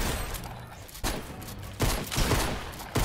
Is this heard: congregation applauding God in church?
no